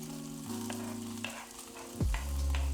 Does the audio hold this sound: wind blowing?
no